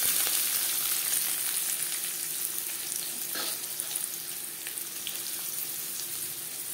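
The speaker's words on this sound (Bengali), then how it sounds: "পেঁয়াজ ভেজে নেব।" Onions frying in a pan over a gas flame, a steady close-up sizzle and crackle with occasional faint stirring, no voices.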